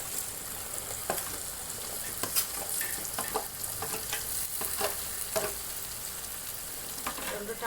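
Potatoes and onions frying in a pan, a continuous close sizzle with scattered scrapes and clicks of stirring, steady and moderately loud with no talk.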